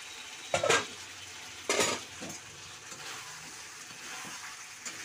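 Fried potatoes and pointed gourd drop into a wok of spice paste cooked until the oil separates, giving two brief bursts of sizzle and a clatter, then a low steady frying hiss.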